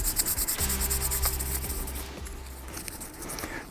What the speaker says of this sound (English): take a little bit of 1500 grit sandpaper and polish them out a little bit